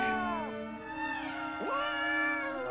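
A cat meows in long, wavering, drawn-out cries that rise and fall, close and clear, over a faint continuous background hum.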